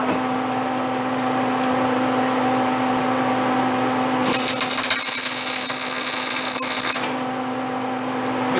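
Welding a bar onto a vehicle frame gives a harsh, crackling burst of roughly three seconds that rises sharply over a steady electrical hum, then cuts off abruptly.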